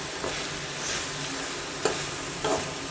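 Chicken perattu is stirred in a pan, with a soft steady sizzle and a few quick scraping strokes of the spoon close by, and no voices.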